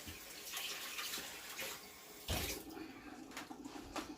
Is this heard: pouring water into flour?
yes